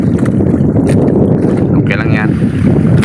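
Strong wind buffets a fishing boat at sea on rough water, making a loud, constant roar across the whole stretch, with a voice faintly present underneath.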